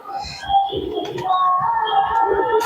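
An old Madras pigeon coos in soft, repeated low murmuring phrases, close by and fairly steady, with a faint chirp of other birds around it.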